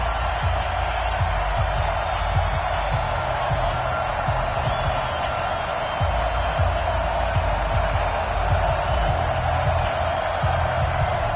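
Steady roar of a sold-out stadium crowd in the Madden NFL football game before a Bills versus Broncos matchup, a continuous dense wash of cheering at even level, with no talk over it.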